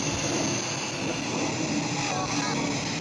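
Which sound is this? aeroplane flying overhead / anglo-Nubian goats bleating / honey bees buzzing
aeroplane flying overhead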